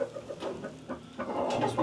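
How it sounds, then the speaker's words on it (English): A hen in a winter chicken coop clucks in short repeated bursts close by, with a louder run of clucking near the end and other coop noise around it. "Chickens are very social and they're very curious."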